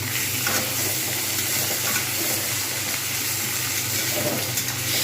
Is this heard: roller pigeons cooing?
no